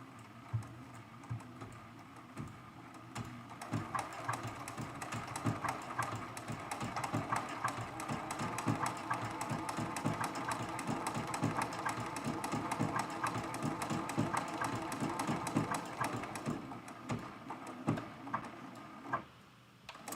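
A domestic sewing machine runs steadily, stitching a decorative pattern across a small quilted mug rug. Its fast, even mechanical clatter continues for most of the span, then eases near the end.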